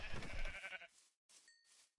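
Sheep bleats in a Minecraft-style video game: a loud, busy burst up front, then two fainter tonal calls after a short pause, with no talk.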